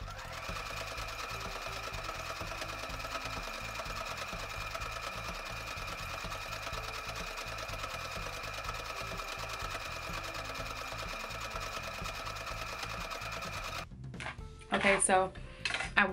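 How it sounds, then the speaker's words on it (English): A sewing machine hums steadily as it stitches across a bikini draw cord, a fast even mechanical whir running close for most of the stretch before stopping, followed by a few clinks of handling. "now I'm going to sew across the entire draw cord"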